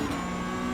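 Porsche 911 Cup GT3 (992) in iRacing at Daytona Road Course, engine pulling at full throttle: a steady, dense mechanical drone holding one pitch for a brief moment, close and alone with no voices.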